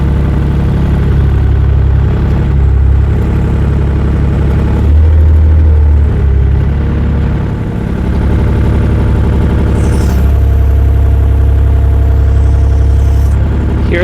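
A 1 ton JoyT5 JT5WL1000 wheel loader runs close and loud while driving and curling its bucket, its engine a steady heavy drone with slight shifts in pitch under load.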